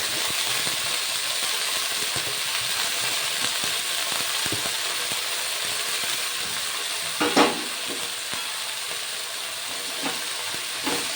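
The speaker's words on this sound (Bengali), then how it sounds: "ভালো করে নাড়াচাড়া করে মিশিয়ে নেব ফোড়নের সঙ্গে শাকগুলো" Leafy greens are stirred into a hot spice tempering with garlic and green chilli in a pan over a medium-high gas flame, giving steady close frying sizzle with scraping stir strokes and one louder clatter midway.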